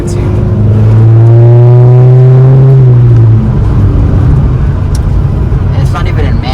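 A 2019 Honda Civic Sport with a K20C2 engine and AEM intake revs loudly up through a rising, droning engine note for about three seconds, then drops to a quieter cruising hum as the car rolls along.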